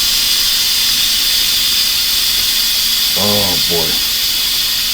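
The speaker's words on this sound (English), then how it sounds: "I'll be back after this steam comes out." Steady, loud hiss of steam venting from a pressure cooker wok during a one-pot stir fry, continuous throughout, with someone briefly speaking over it near the end.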